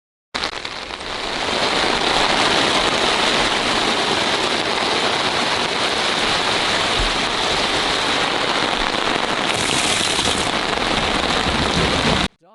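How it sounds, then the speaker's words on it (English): Heavy rain pours steadily onto a lake in remote wilderness during a violent rainstorm, a dense continuous hiss that starts abruptly, holds at full strength, and cuts off at the end. "Moisture clings to leaves while rain hammers the lake,"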